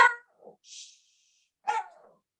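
A small dog gives a few short, sharp barks and yips at close range, separated by brief pauses, with no other sound around them.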